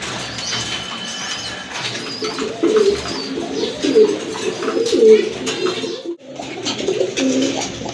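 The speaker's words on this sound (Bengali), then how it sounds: "আরেক জোড়া কবুতর" Domestic and imported pigeons coo in a crowded pigeon shop, with repeated low throaty coos from several birds nearby, a busy background of chirps and clatter, and a brief dip in sound near the end.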